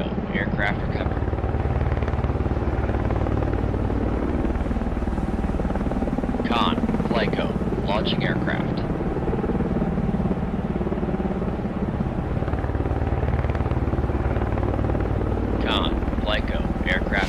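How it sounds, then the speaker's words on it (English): A helicopter lands on a ship's deck in the naval game Cold Waters. Its steady rotor and engine rumble drones throughout, moderately loud, under occasional radio-style voice callouts. "Con, Flyco, aircraft landing."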